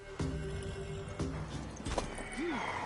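Horse hooves clop in short bursts in a PS4 video game, with a brief whinny-like rising tone near the end over steady game ambience.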